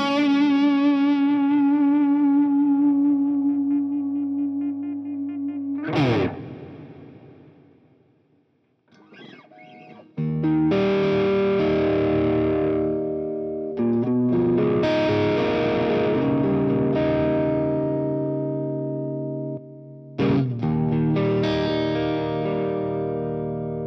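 An electric guitar through AmpliTube 5 Orange amp models with a plate reverb at the end of the chain plays sustained distorted chords and single notes, ringing out with a lush tail, alone and loud.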